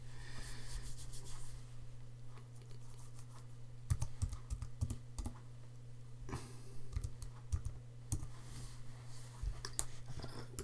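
Computer keyboard typing with irregular key clicks, some sharper bursts, over a steady low hum in a quiet room, no talk.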